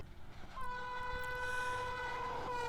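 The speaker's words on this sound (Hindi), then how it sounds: "रेलगाड़ी अपनी गति से सर पर दौड़ी चली जा रही थी।" A train runs along its tracks with a steady rumbling roll, and a long, sustained horn blast sounds clearly over the rumble for most of the moment.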